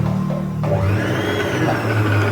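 Singer Fashion Maker 1306 sewing machine winding its bobbin: a steady motor whir with a clear hum starts after a brief moment and holds at even speed, close and fairly loud.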